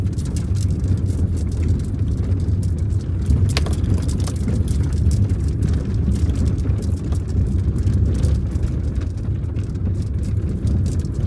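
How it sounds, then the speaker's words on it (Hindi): Interior engine drone of a manual car pulling in second gear, a steady, fairly loud low rumble with road and wind noise throughout and no speech. "अब देखो स्पीड दी थोड़ी सी सेकंड गियर"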